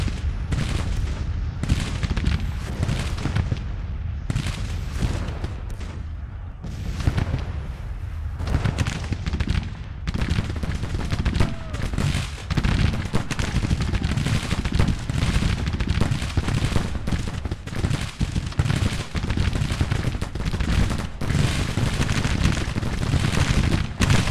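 Massed musket and cannon fire from Civil War battle in Grand Tactician: The Civil War, a dense, continuous roar of overlapping volleys and booms without pause.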